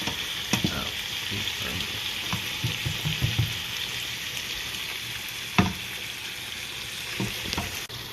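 Collard greens cook down in a pot with a steady, close sizzling hiss, with a few stirring scrapes and knocks scattered throughout.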